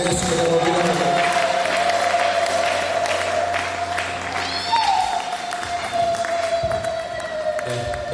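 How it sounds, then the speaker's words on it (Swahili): Church congregation applauding, a steady wash of many hands clapping throughout with a sustained tone and voices mixed in, loud and continuous. "Ongeza makofi kwa Yesu"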